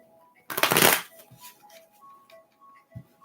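A quick riffle of tarot cards being shuffled, one brisk burst, followed by a few faint clicks and light background tones.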